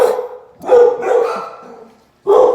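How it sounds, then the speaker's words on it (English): Several puppies bark loudly and close by in a short, overlapping flurry, followed by a brief pause before another bark. "I got all of the puppies hyped this morning."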